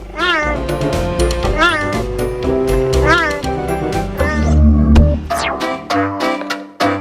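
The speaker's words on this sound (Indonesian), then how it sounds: "suara yang dikeluarkan oleh cheetah bukanlah mengaum seperti singa dan macan, namun mengeong" A cheetah's repeated high, drawn-out meowing calls with rising and falling pitch, fairly loud and close, one after another with short gaps.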